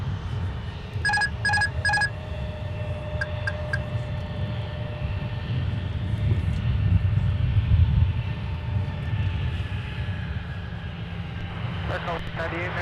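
An airliner takes off from runway 12 right at Minneapolis–St. Paul airport: a steady, distant jet roar rumbles through the whole stretch, with a few short electronic beeps early on and faint background voices.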